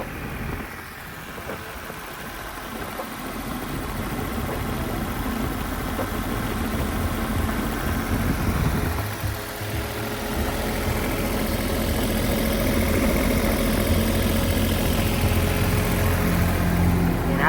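A vibratory road roller's diesel engine, on a 5-ton Hitachi CC150C, idles steadily nearby, a continuous low rumble with a slight rattle, growing a bit heavier partway through.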